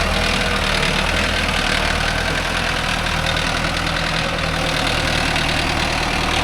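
A Mahindra Arjun Novo 605 S tractor engine running with a 5-point cultivator in mud, a loud, steady, close diesel drone and throb that continues unbroken throughout.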